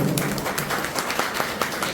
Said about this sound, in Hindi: जोरदार ताली से सर का सम्मान है